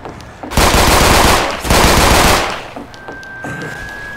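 The Blacktail handgun, a Resident Evil 4 Remake weapon modded into Left 4 Dead 2, fires in two loud, close bursts of rapid shots, followed by a quieter stretch with a thin steady tone.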